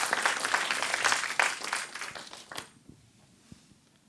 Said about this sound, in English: Round of applause for Winnie and Eric, please.